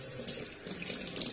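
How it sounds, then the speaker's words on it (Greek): Cold tap water runs steadily from a faucet into a sink to rinse something, a close, continuous splashing flow with no voices. "θα τα ξεπλύνουμε με νερό, με κρύο νερό"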